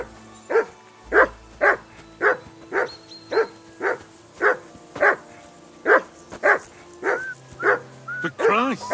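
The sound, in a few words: dog barking, from a video game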